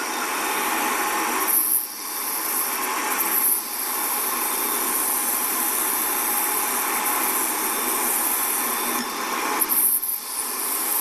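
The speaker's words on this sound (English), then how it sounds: "We're just going to take a flap disc in the grinder and put a little chamfer in this" An angle grinder fitted with a flap disc chamfers the end of a steel axle shaft from a Ford 9-inch rear end, a loud, continuous close-up whine with gritty rasping that briefly dips a few times as the disc shifts.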